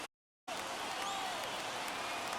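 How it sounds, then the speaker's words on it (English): Baseball crowd at a Dodgers vs Padres NLDS playoff game roars and applauds steadily after a brief moment of silence, a dense, distant, stadium-wide wash of clapping and cheering. "Crowd on its feet."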